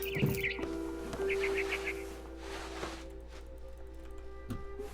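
A bird outside a window in What Remains of Edith Finch chirps in a quick run of four or five high notes, set against humming, droning game ambience with a few soft thumps.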